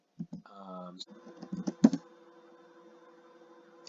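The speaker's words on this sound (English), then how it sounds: "so if I type in MST Imagine" A short burst of typing on a computer keyboard, with a handful of quick, close clicks and taps followed by a faint steady hum.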